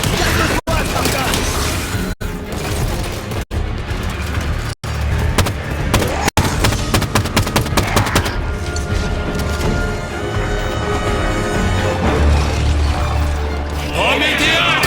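Dense, punchy weapon fire and crashing impacts from Halo 5: Guardians combat, sharp bursts repeating across a loud, busy battle mix with game voices calling out over it.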